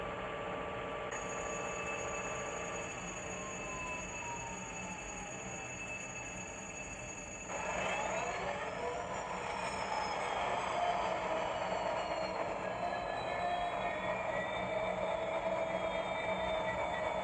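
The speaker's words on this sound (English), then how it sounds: "Turning off function button F13 simulates the locopilot putting the reverser to drive position, which cuts out the APU and restarts the prime mover." HO scale WDG4 model locomotive sound decoder: a steady idling hum that shifts near the middle as the prime mover restarts, the engine rumble building and holding steady with rising whine tones, no talk.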